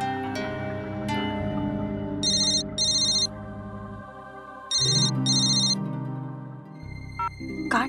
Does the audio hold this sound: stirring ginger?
no